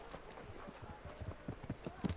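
Horse hooves clip-clop in the medieval game Kingdom Come: Deliverance, a quiet, steady walking rhythm of hoofbeats heard alone at low level.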